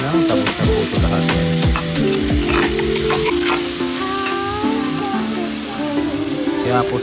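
Squid (pusit) stir-fries in a pan with a loud, continuous close sizzle, punctuated by rhythmic scraping and tossing of the spatula, while a person speaks over it.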